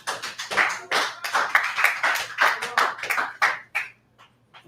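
An audience at a live talk show claps in a lively burst of applause lasting several seconds, then fades quickly into near silence.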